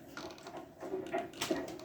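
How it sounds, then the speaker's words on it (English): A key turns in a door lock in a 1938 radio drama, a few soft mechanical clicks and creaks spread over about two seconds, quiet and close. "Unlock the door. The key's on the outside."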